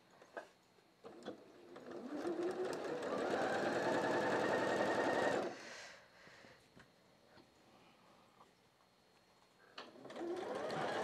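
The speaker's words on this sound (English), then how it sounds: "Bring it over here and sew it on." A sewing machine sews self binding onto a quilted tablecloth in one sustained, steady run of several seconds, then stops and quietly starts up again near the end, with no talking.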